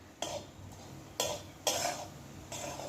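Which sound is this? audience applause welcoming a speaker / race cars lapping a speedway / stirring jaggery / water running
stirring jaggery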